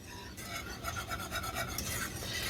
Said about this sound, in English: Pasta is still cooking, so we just occasionally give that a stir.